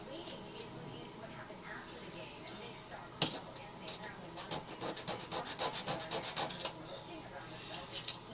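Model rocket fins held together in a bundle are sanded for an Estes Photon Probe build, giving a steady run of close, rhythmic scratchy strokes that quicken in the second half, with a sharp knock partway through.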